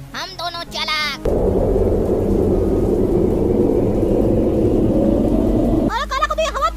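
Thunder rolls through a rainy night in a cartoon horror story, a loud, deep, sustained rumble lasting several seconds, with animated voices talking just before and after it.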